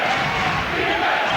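Basketball arena crowd at a Rutgers game cheering and roaring in a steady, loud wash of voices from all around.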